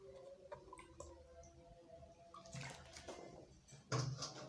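Water is poured into a container for a citric acid and baking powder experiment, making quiet trickling and splashing with two brief, louder pouring bursts near the end, with no talk.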